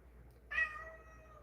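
A house cat gives a single drawn-out meow that trails off, close by in a quiet room.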